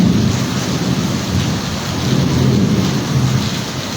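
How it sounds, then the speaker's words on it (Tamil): Heavy rain pours steadily in Mayiladuthurai district, with deep rumbling thunder rolling underneath throughout; a dense, continuous outdoor roar with no voices. "இப்போ தான் தற்போது உள்ள மயிலாடுதுறை மாவட்டத்தில் இதான் மழை தான் இப்போது பெஞ்சிக்கிட்டு இருக்கு"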